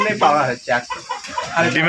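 Fayoumi hens cluck and chatter in short bursts, fairly close by on a village farm, with a person speaking over them at times.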